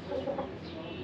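An Aseel chicken at a farm in Pakistan gives a brief, faint series of soft clucks heard close by.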